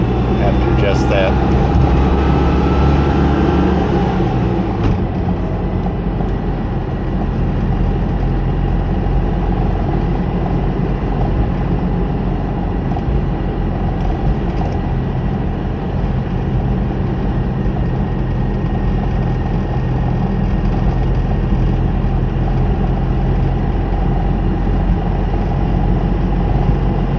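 A Citroën 2CV engine idles low and steady, a continuous close, loud drone that runs unchanged throughout.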